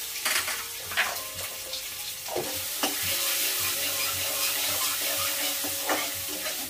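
Garlic paste and panch phoron sizzle in hot oil in a home kitchen pan, a continuous crackling fry broken by repeated scraping strokes of a spoon stirring against the pan, close and clear with no talking.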